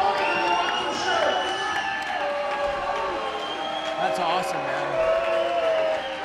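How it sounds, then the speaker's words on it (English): A fight crowd at an Art of War event murmurs and jeers with displeasure, a steady wash of many voices and scattered shouts filling the arena, with no clear cheering. "Crowd's not loving it right now."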